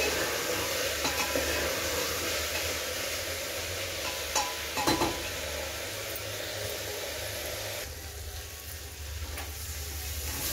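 Potatoes and soaked soybeans frying in masala in a pan for a vegetable biryani, a steady loud sizzle with a few stirring scrapes and clinks, the hiss easing slightly near the end.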